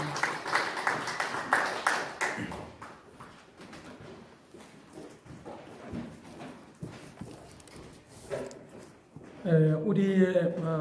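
Congregation applause during a Christmas celebration church service, a sustained patter of clapping that fades under the room before a voice speaks near the end.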